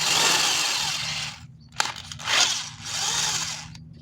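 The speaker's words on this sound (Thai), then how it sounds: "ทำการใส่สว่านนะครับ สว่านแบบหัวหนีบนะครับ" A chuck-type power drill bores a hole, its whine running in sustained bursts that pause briefly and start again, fairly close and alone.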